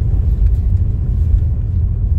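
A car rolls along a rural dirt road near Conceição de Ibitipoca in Lima Duarte, Minas Gerais, giving a steady, close, low rumble of engine and tires with no voices.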